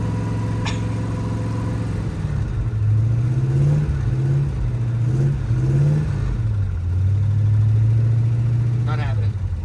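A 1958 Plymouth barn-find engine runs as the gears are floated, its hum rising and dipping in pitch with each shift, while someone talks over it.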